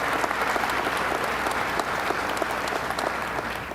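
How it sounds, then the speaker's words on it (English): Sustained audience applause fills a large hall at a New York convention center event honoring two partners, steady dense clapping at close range with no speech over it. "let's give Peter Ward and Greg Floyd a big round of applause"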